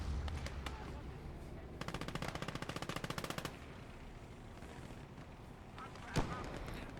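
Rapid machine-gun fire from the Eastern Front swamps in Gates of Hell Ostfront, aimed at a Sturm mortar: a steady burst of evenly spaced shots for under two seconds, then a single sharp report, all over a dense wash of battle noise.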